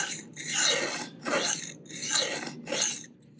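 Four rough rasping strokes of a knife edge dragged across a coarse whetstone held at too steep an angle, each stroke loud and harsh, evenly spaced and close up with no talking.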